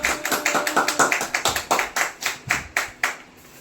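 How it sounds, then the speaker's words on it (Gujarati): Sharp hand claps from a small group at a family birthday celebration, a quick irregular burst of about twenty claps, close and fairly loud, tapering off near the end. "તાળી પાડો બધાય"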